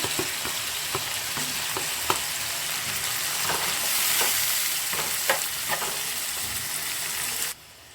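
Tomato pieces frying with radish in a pan make a continuous, fairly loud sizzle, with frequent spatula taps and scrapes throughout. The sound stops abruptly near the end, and no one speaks.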